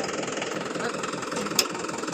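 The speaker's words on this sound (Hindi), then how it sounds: "ये हमारा ट्रैक्टर है" A Mahindra 475 DI tractor idles on a farm, a steady, evenly pulsing mid-low diesel chug heard close up, with a brief metallic click partway through.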